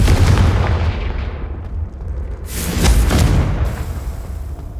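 Confringo fire spell blasts from the video game Hogwarts Legacy, heavy booming impacts with crackling bursts, one loud blast midway and rumbling decay throughout, with no voices.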